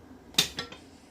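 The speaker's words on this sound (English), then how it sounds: "Stir that well." A spoon stirring coconut lime sauce in a pan gives one sharp metallic clink followed by two softer taps, brief and close, with no talk.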